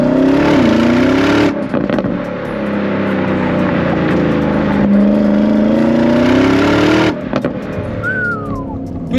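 A stock Porsche Cayenne Turbo GT engine drones loudly and up close, its pitch climbing and easing through sustained revs, with brief dips around a couple of throttle lifts before building again.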